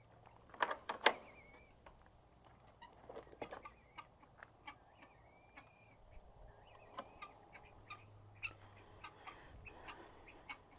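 Chickens cluck softly inside a wooden-doored coop, with brief bird calls and scattered small knocks and patter against a quiet background.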